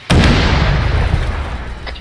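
Tank cannon fires in Arma 3 during a Bundeswehr Panzergrenadier mission: a single loud, close boom with a sharp onset and a long rumbling decay that fills the whole stretch, heard alone.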